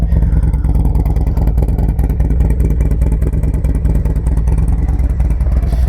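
A Harley-Davidson Dyna Low Rider S motorcycle engine runs steadily and loudly up close, a dense low rumble with rapid clattering pulses that holds throughout without pause.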